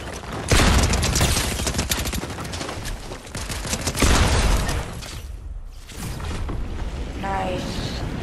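Rapid bursts of video game gunfire in a snowy battle royale match, loud and dense fusillades with a brief lull near the middle, sharp shots and booms packed closely together.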